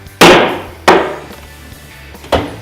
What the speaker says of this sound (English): It would be a hammer